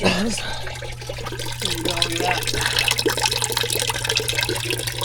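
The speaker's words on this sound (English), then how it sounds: "I'm draining some more coolant" Coolant draining from an RV engine radiator, a continuous splashing trickle of liquid into a container beneath a steady engine hum, with someone talking over it.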